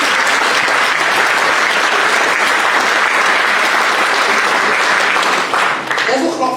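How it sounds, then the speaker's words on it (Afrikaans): A large church congregation claps steadily and loudly for several seconds, the applause thinning slightly near the end. "Kom ons gee hulle gou 'n hande klap."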